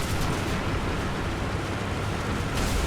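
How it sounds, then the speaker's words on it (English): Bombs exploding in the tank game War Thunder: a continuous, heavy, broadband roar of blasts and rumble, loud and close throughout, with no talking. "And bombs."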